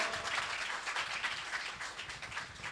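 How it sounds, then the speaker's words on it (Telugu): A church congregation claps together in worship, a dense, steady patter of many hands that is fairly faint and continuous throughout, with no voices standing out. "చప్పట్లు కొట్టి దేవుని మహిమపరుస్తాం"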